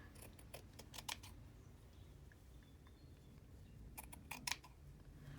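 Scissors snip through lace fabric in two quiet clusters of short crisp cuts, separated by a near-silent pause.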